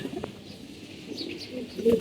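Pigeons kept at home, including young birds, give soft low coos against quiet background noise, with a faint voice and a louder coo at the very end.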